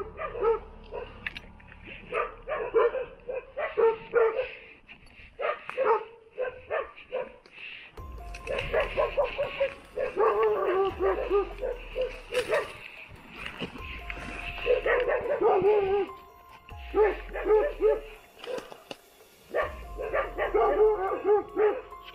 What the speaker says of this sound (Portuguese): Os cachorros estão bem aí mesmo, ó.